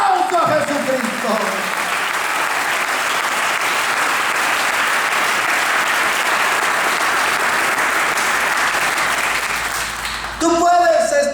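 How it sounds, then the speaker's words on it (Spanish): A church congregation applauds steadily and loudly for about ten seconds, a dense wash of clapping that swells at the start and fades near the end, when a voice comes back in. "Alguien déle un mejor aplauso a Jesucristo."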